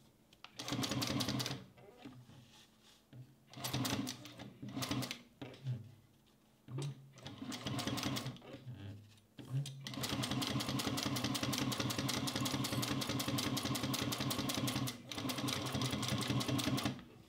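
A Juki 1541s sewing machine stitches a curve in stop-and-start bursts, short runs and pauses giving way to a long steady whirring stretch, close and clear with no talk.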